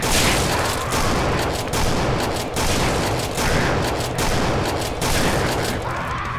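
Shotgun fire in a video game match: dense, loud bursts of blasts follow one another almost without pause, a continuous barrage of gunfire with no voices over it.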